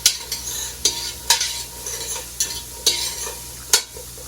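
Yellow onion and garlic fry on a crowded stovetop, a steady sizzle broken by about eight sharp scrapes and clatters of stirring, close and fairly loud.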